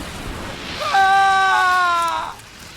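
In Star Wars: The Old Republic, a tortured prisoner lets out one loud, sustained, wavering scream that lasts over a second before dropping away, with a rumble of game effects underneath.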